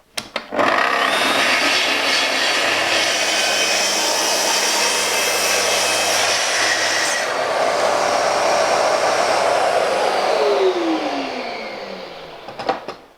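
A Festool TS55 plunge track saw runs along its guide rail, cutting a panel about 20 millimetres deep. The loud, continuous motor roar and cutting noise last throughout, then the blade spins down at the end.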